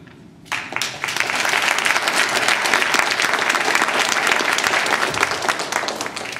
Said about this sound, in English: And I applaud you all for that.